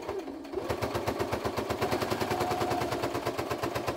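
Fortuna F09C sewing machine stitching leather, a fast, steady mechanical clatter of evenly spaced needle strokes running close and continuously after a brief start.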